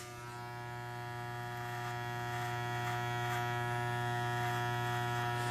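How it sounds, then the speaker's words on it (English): An adjustable electric hair clipper running steadily while shaving up a fade haircut, a close, even motor buzz with a strong hum that swells slightly at the start and then holds constant, with no talk. "We're going to shave up and we're going to leave off about a quarter of an inch below where we left off on the shortest setting on our adjustable clipper."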